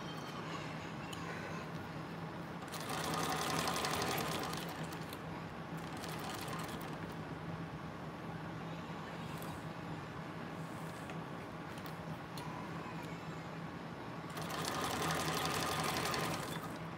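A Thor GC 1341 sewing machine stitching at its long stitch length of 7 runs in two close, steady mechanical bursts, separated by a stretch of quieter room noise.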